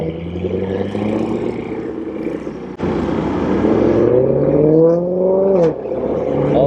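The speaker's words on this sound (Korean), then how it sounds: "근데 저 자동차 저거 원래 순정 저거 배기음인가?" A car's exhaust note swells and climbs in pitch as the engine revs hard and the car sweeps past nearby, with a sharp jump in loudness midway and steadily rising tones toward the end.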